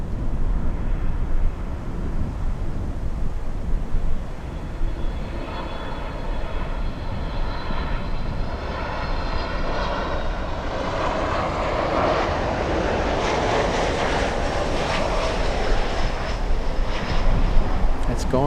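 A Lufthansa airliner, flight LH462, climbs away from Miami International Airport with a broad, steady engine roar that builds gradually and holds, heard from a distance outdoors.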